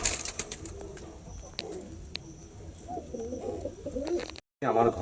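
A pair of tippler pigeons, one male and one female, coo softly and close by in a pigeon loft, with low intermittent calls over background murmur and a short break near the end.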